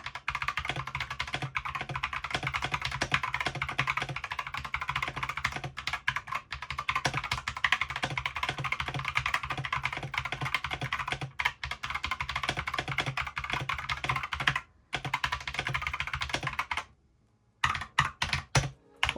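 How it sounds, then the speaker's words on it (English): Typing on a GamaKay LK67 custom mechanical keyboard produces a fast, continuous run of close, crisp key clacks with a brief pause near the end before a few more strokes. "So here's a quick test of how it all sounds."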